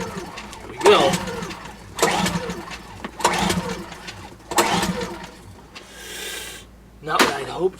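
A cheap gasoline generator engine cranks in four or five loud, rhythmic pull bursts, each a brief rising rasp that dies away without catching, with a short hiss between the last pulls.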